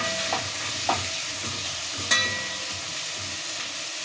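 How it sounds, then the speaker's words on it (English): Washed meat frying in a pan, a steady close sizzle with a few sharp clicks and scrapes from stirring. "So I'm gonna just let it fry like that."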